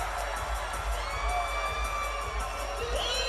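An MMA arena crowd cheers and shouts steadily, a dense, continuous roar of many voices with whoops rising above it throughout.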